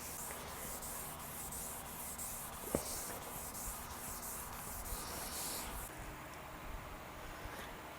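An ebony guitar fretboard is sanded with 1500 grit sandpaper on a block, making a quiet, even rhythmic rubbing hiss in back-and-forth strokes, with one small knock near the middle.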